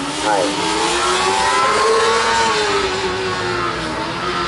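An Osaka City University student formula car runs in the 2013 All-Japan Student Formula endurance event, its engine note sweeping up and down as it revs steadily at close range while someone talks over it.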